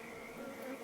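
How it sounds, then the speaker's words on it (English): Bees buzz around Langstroth hives in Farming Simulator 22, a faint, steady, close drone lasting under a second. "we've got some buzzy bees in the corner here"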